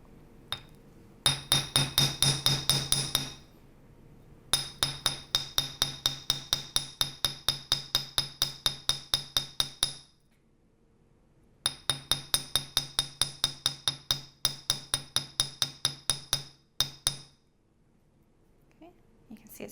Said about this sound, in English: I actually want to hammer this entire piece with my chasing hammer